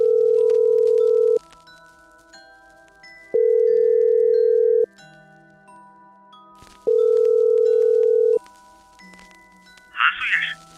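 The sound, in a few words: phone call ringing unanswered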